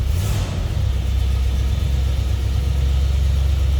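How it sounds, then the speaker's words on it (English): A 1957 Cadillac Eldorado Biarritz convertible engine catches and settles into a deep, steady, loud low rumble that continues without talk. "Let's fire it up, see how it runs."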